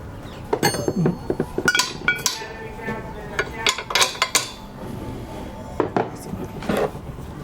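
Metal scaffolding cup lock being fitted onto a standard and tightened, giving sharp, irregular metallic clinks and knocks, close by, with scattered clanks between quieter moments.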